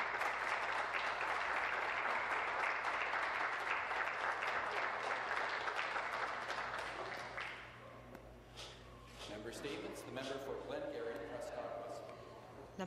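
Members of the Canadian parliament applaud in the chamber during statements by MPs. The dense clapping runs for about seven seconds, then thins and fades while scattered voices and movement take over.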